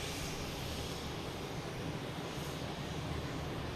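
A JetBlue airliner taxiing at Boston Logan Airport gives a steady broad roar of engines with a constant rumble from start to finish, heard at a moderate distance with no voices.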